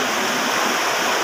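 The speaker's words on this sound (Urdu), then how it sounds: "یہ پانی کا بہاؤ دیکھیں آپ" Floodwater from the Deg river rushes past a bridge during the 2023 Pasrur flood, making a steady, loud, broadband roar that continues without a break and with no voices.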